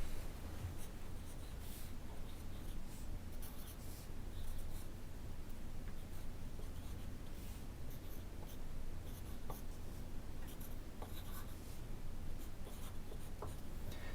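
Pen or pencil scratching on paper as numbers are written around a drawn clock face, a steady run of soft scribbling strokes and rubs, close and quiet, with no talking.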